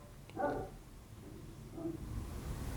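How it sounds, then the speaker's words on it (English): A dog barks at a garbage collector from indoors near a kitchen: one short burst of muffled barking near the start, with a quieter yip-like sound shortly after and steady room noise throughout. "he's barking at the garbage man."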